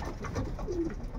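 Soft, low cooing from a small male racing pigeon in a loft, a couple of brief murmured coos over a steady faint background hum.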